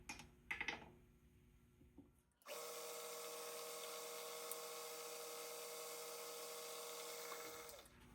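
A number 48 drill bores a clearance hole for ignition parts of a hit-and-miss engine, a steady high-pitched whine that starts abruptly after a few faint clicks and runs evenly for about five seconds before winding down.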